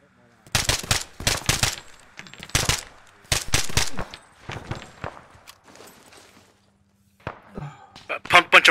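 Gunfire in the military shooter ArmA 3 comes in bursts of rapid automatic shots, several loud volleys with gaps between them, then sparser single cracks near the end.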